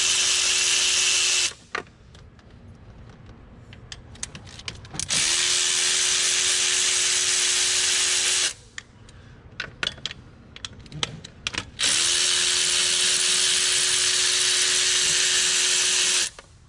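A power tool runs in three long, steady whirring bursts while removing five 10 mm bolts from the intake horn of a Dodge Cummins 6.7L diesel. Quieter clicks and handling noises fill the gaps between bursts.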